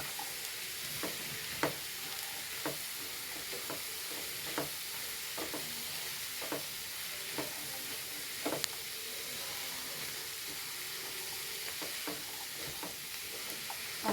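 Ground coconut, coriander and chili paste stirred into a thoran of banana stem and chickpeas frying in a pan, with a constant hissing sizzle and regular spoon scrapes at close range.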